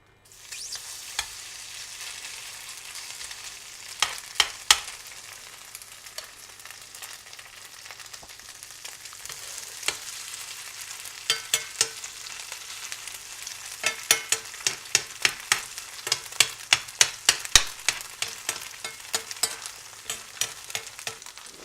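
Rice noodle pancakes frying in oil in a pan over medium heat, a steady close sizzle with sharp pops and crackles that grow more frequent as cooking goes on, no voices.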